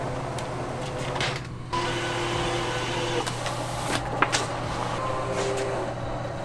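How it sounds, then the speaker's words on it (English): A vinyl sticker printer hums and whirs steadily nearby, its mechanical drone continuous with occasional clicks and small shifts in pitch, no voices. "now we gotta load the take-up roll and get these things off the printer"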